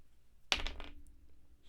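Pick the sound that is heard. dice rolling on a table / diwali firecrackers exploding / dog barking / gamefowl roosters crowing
dice rolling on a table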